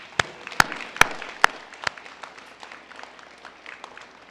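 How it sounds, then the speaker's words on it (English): A few loud, sharp claps ring out at the start, then trail off into scattered light clapping from a small group. "let's give your families and supporters a round of applause again."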